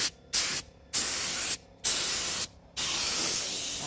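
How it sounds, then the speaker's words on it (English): Spray paint hissing onto shellacked dresser drawers in four loud, close bursts separated by short silences, with no one talking. "All these things got sprayed."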